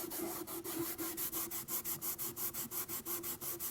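Aluminum trim on a Mercedes 300SEL 6.3 is scrubbed with Marvel Mystery Oil, a close, quiet back-and-forth rubbing in a steady rhythm of about six strokes per second, with no talking.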